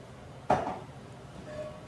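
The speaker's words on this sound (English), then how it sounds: "I'm going to use oil in the pan" A hot cast iron pan gives a single metallic clank as it is handled while oil goes in, followed by a quiet, faintly ringing kitchen hush.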